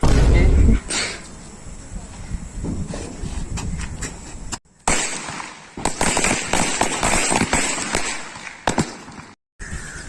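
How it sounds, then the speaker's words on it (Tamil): A rapid, crackling string of Diwali firecrackers bursts continuously, with a couple of brief pauses before the popping resumes, loud and close. "சந்தோஷமா சரவெடி வெடிக்க போறோம்"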